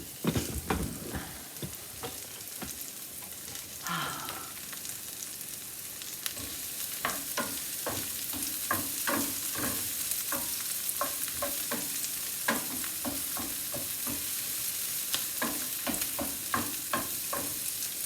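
Chicken stroganoff ingredients frying in a pan are stirred with repeated scraping and clacking strokes over a continuous sizzle. The sound is close, fairly quiet and steady, with no one talking.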